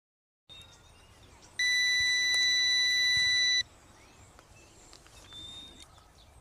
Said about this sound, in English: we receive enough signals and hear a beep to start flying